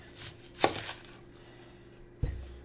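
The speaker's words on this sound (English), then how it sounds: "Everybody's an onion cutting expert" A knife chops through a white onion on a board, giving two main close thuds about a second and a half apart after a brief burst of cutting, quiet and without talk.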